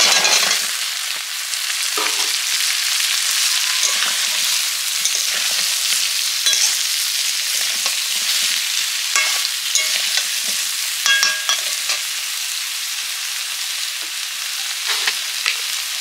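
Chunks of cut ash gourd fry with a hilsa fish head in a pan, sizzling steadily and loudly while a utensil stirs and scrapes through them at irregular moments.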